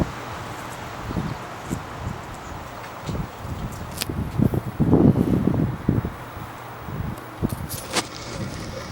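Strong wind blowing outdoors through trees, rising in gusty bursts of rushing and buffeting, with scattered rustles and soft thumps, loudest in the middle stretch and easing toward the end.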